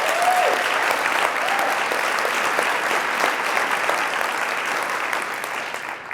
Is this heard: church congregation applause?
yes